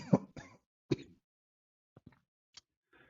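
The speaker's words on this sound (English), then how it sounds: "Oh, excuse me, I'm coughing." A man coughs a few times and clears his throat, short close bursts separated by pauses, followed by a couple of faint clicks and a small throaty noise.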